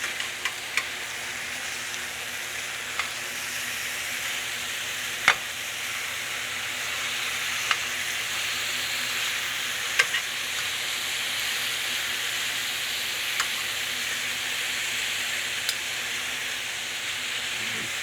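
Pork for sweet and sour pork browning in a frying pan over rising heat, a steady soft hiss of sizzling fat with occasional sharp pops and ticks, close and continuous without speech.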